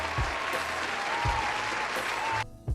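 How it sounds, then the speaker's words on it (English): An audience claps for a guest at a live show, giving a dense, lively burst of applause with a few low thumps, before it suddenly drops away near the end. "Let's give BG a round of applause."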